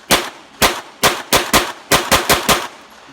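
A P320 pistol fitted in a Fire Control Unit fires about nine or ten sharp, loud shots at a target outdoors, in a quick uneven string with short gaps between them.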